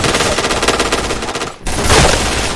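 Paintball markers fire in rapid automatic bursts during a practice session, a dense rattling stream of shots that breaks off briefly and then resumes just as loud and busy.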